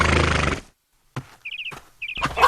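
A cartoon horse lets out quick, high whinnying neighs in short rapid bursts, sounding twice after a stretch of silence, with brief clattering and scuffling sounds in between.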